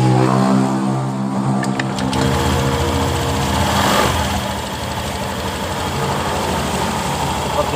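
A Honda scooter engine runs at idle after CVT servicing, a loud, close, steady putter with a continuous mechanical rattle and no speech.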